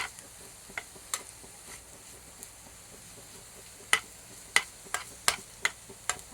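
Food stirred in a pan makes a run of sharp spoon-on-metal scrapes and taps, a few sparse at first and then a quick cluster of six or so clicks, over a faint low sizzle.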